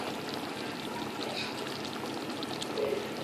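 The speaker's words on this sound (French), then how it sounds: "Je vais venir les arroser de jus," Lemon juice and sauce are poured over sea bream fillets, a soft, continuous trickling stream that stays faint and steady throughout, with no talking.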